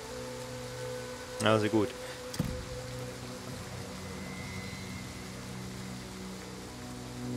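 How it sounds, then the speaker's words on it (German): Light rain falls in the video game Total War: Pharaoh, a steady soft hiss of rainfall running throughout, briefly interrupted by a short spoken remark and a couple of interface clicks. "Es regnet noch leicht, ne?"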